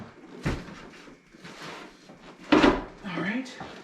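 A dental chair is rocked back onto a dolly, giving a few knocks and a heavy scraping clunk of metal and wood amid the shuffle of handling. A voice talks in between.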